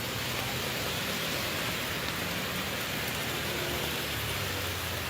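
Floodwater pours over a road like a waterfall in Ambon, a steady, loud, broadband rushing roar that stays constant throughout without voices.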